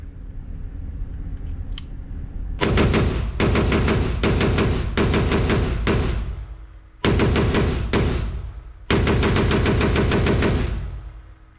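AR rifle firing in rapid bursts at a shooting range, several loud strings of quick shots separated by short pauses, with a single faint click beforehand.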